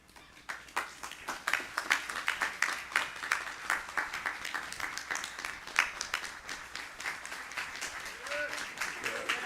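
An audience at the investiture ceremony of Justice Harold Willocks breaks into sustained applause: dense, steady clapping from many hands that rises and holds throughout, with possible voices mixed in.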